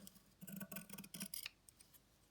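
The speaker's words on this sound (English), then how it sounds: "Snip all the way up 10 centimetres." Scissors snipping card for an octopus craft, a quick series of close, crisp cuts in two clusters, then fading to quiet.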